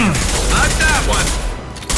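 Impact-shot gunfire in the Mass Effect 2 video game: a dense, loud burst of booming shots and crackling reports crowds the whole two seconds.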